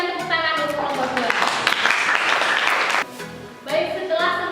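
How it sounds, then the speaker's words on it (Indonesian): A classroom of students applauding a presenting group, brisk clapping rising to a dense burst for a few seconds, with a teacher talking over the start and end. "Kita berikan tepuk tangan untuk kelompok 2."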